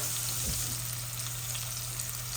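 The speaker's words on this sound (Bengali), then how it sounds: "অল্প একটু তেলের মাঝে বাগার দিয়া শুধু গ্রানিত করি।" Whole spices tempering in a little hot oil for a curry with taro stolons, dried fish and rohu fish head, giving a steady close sizzle with a soft stir near the start.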